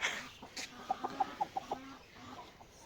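A rooster clucks in a quick run of about six short, evenly spaced bursts, fairly faint over a quiet background.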